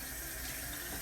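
Water runs steadily from a tap into a sink in a bathroom spa routine, a soft continuous splashing hiss at low level, with no voices.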